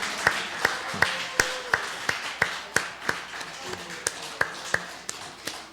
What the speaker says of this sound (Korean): 퇴장할 때까지 우리 박수로 합시다.